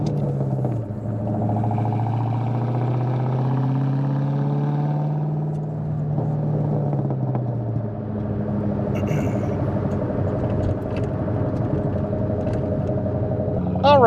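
A 2001 Ford SVT Cobra with 87,747 miles and its original fuel-injected 4.6 liter V8 rumbles steadily on a drive, the low engine drone rising and settling while someone talks over it.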